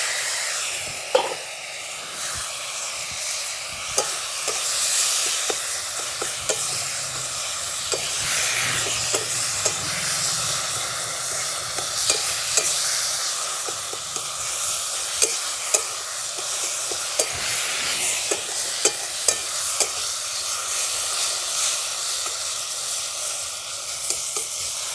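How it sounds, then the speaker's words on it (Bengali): Greens fry in a pan after a tempering of ground biuli kalai, with a steady loud sizzle and hiss under repeated clicks and scrapes of stirring, close up throughout with no voices. "এরপর আমি দিয়ে দিচ্ছি শাকটা।"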